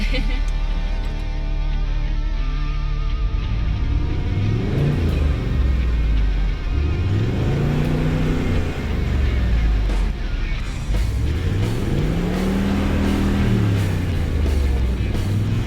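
An off-road vehicle in Victoria's high country revs hard trying to climb out of a tough spot, the engine rising and falling in repeated surging waves, loud and close, with someone talking over it.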